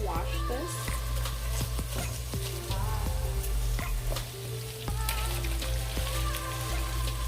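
Chopped cabbage goes into a frying pan where bacon has been cooking, and it sizzles and crackles steadily up close, with scattered clicks and taps from stirring.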